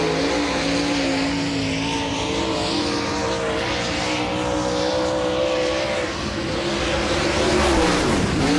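A dirt late model race car on its opening qualifying lap at Spoon River Speedway during a World of Outlaws Late Model Series event roars at full throttle, its pitch rising and falling through the corners, loud and continuous, with no voices over it.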